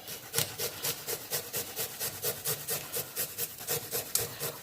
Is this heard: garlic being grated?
yes